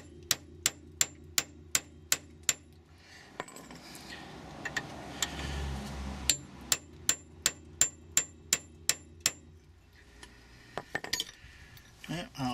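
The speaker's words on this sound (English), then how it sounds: "I'm just going to use the hammer and chisel" Sharp metallic blows of a hammer on a chisel cutting through a seized brake pin ring out in a steady rhythm, a pause with low rumbling in the middle, then the strikes resume, close and loud.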